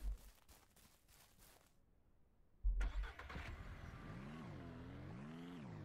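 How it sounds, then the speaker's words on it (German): A car engine in the farming game Ranch Sim cranks and catches after a few seconds of quiet ambience, then settles into a close, wavering idle with slight revs. "Ich fahre nochmal Auto."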